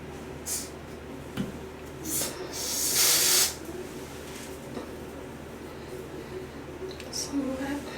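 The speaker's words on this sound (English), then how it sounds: "So this is the lace melt spray, the adhesive." An aerosol can of lace melt adhesive sprays in a short hiss lasting about a second, with a few fainter spurts around it, near and fairly quiet under a room background.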